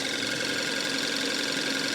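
A cheap Kia Forte engine runs steadily under the hood with a loud, continuous droning hum and a faint knocking vibration throughout.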